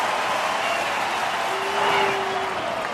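A baseball crowd of more than 42,000 rises to its feet at the ballpark, a broad, steady roar of cheering and applause that swells slightly midway, with a faint whistle-like tone riding over the noise.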